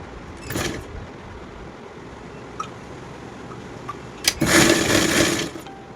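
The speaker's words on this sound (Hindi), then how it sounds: "अब इसे हमें सिलाई लगाते हैं।" Sewing machine stitching fabric for a toddler's coat, two short bursts of motor whirr, one near the start and a longer run near the end, with quiet gaps in between and no talk.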